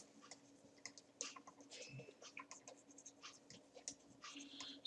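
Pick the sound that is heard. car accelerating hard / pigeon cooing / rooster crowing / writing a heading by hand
writing a heading by hand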